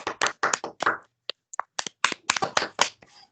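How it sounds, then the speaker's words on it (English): A few people clap in scattered, uneven bursts, with short gaps between the sharp hand claps rather than a steady roar. "Round of applause, everybody, for Aaron."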